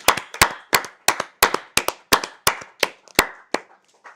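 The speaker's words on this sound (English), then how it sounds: "I think you can join us for a round of applause for young Denny." Spectators at an amateur T20 club cricket match in Ireland clap in a sparse, steady rhythm, about a dozen sharp, distinct claps spaced evenly and close by, with no talk over them.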